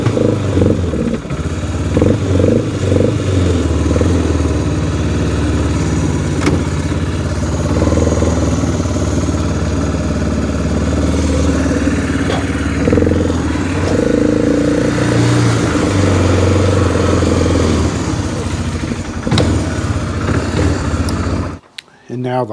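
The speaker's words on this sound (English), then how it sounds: "I have to turn the idle up on it a little bit." Polaris Sportsman 300 ATV engine idling steadily and close, a continuous rumbling drone with some clatter, cutting off near the end.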